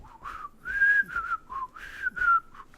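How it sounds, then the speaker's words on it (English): A man whistles the Andy Griffith Show theme, a clear, close melodic whistle with short phrases and brief breathy pauses, no talk over it. "he's going to whistle the Andy Griffith Show theme"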